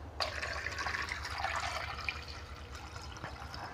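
Water poured into a dish of sliced baila fruit, a soft steady splashing and trickling close by that lasts a few seconds.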